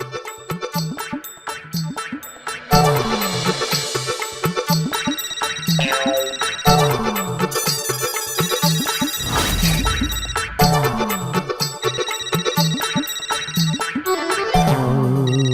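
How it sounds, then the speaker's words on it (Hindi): A loud, busy electronic ringtone melody plays continuously with repeating tones and a brief crashing burst midway, no voices over it. "चिंटू क्यों फोन कर रहा है मुझे"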